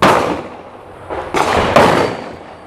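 A Mossberg Shockwave shotgun loaded with Aguila Minishells fires several sharp, loud reports in close succession outdoors, each blast trailing off briefly before the next.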